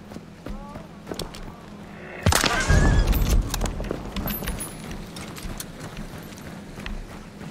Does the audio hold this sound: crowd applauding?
no